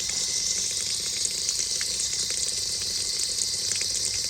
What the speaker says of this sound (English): I'm just running water in it because, I mean, we all know if you mix water with dirt, it just turns to mud.